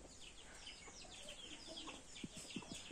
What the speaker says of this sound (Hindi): ये मुर्गी है, मुर्गा है